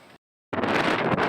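Heavy waves crash on a beach shore where fishermen haul nets in Lampung, heard as a loud, dense, close roar of surf that bursts in after a brief moment of silence.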